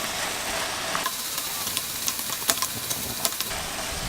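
Chicken thoran sizzles in a pan as chili, pepper and garam masala powders are stirred in, with steady frying hiss and a series of scraping, tapping spoon strokes from about the midpoint on.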